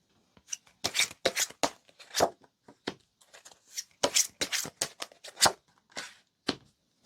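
Tarot-style cards being shuffled and handled for a reading: a series of crisp riffling bursts and sharp card snaps close up, with quiet gaps between, and no voices over them.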